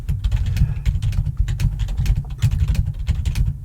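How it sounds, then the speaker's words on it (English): Rapid, loud typing on a computer keyboard during a role-played job interview: dense, uneven clatter of key clicks runs steadily throughout, with no talking. "I will type rather excessive notes."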